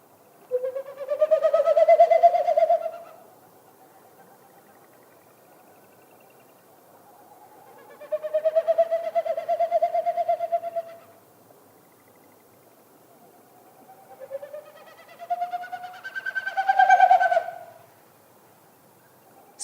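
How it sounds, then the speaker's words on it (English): A Wilson's snipe's winnowing display flight, made by air through its wings and tail, heard as three separate bursts of rapid pulsing hoots that rise and fade, set apart by quiet gaps outdoors. "What you heard is a Wilson snipe doing its territorial sound, but it's made with its wings and its tail."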